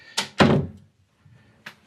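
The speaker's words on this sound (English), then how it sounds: "I'm going to close the door" A home door swings shut with a couple of solid thuds close by, followed by a faint knock and quiet room tone.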